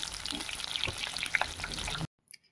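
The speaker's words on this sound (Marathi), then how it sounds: "आपण जे वांगे स्टफ केलेले आहे ते वांगे आपण आता यामध्ये सोडून देणार." Stuffed brinjals drop into a little oil in a wok and fry with a crackling sizzle and scattered pops for about two seconds, then the sound cuts off abruptly, leaving near silence.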